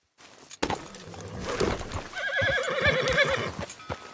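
A male Piebald Tobiano Hungarian Halfbred horse in Red Dead Redemption 2 gives a loud, close whinny with a quavering, descending tail, preceded by a few hoof clops and snorting breaths.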